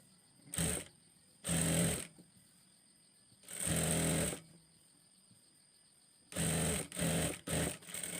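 A sewing machine stitches two umbrella palazzo pieces together with their lining, running in about five short, loud bursts separated by brief quiet pauses.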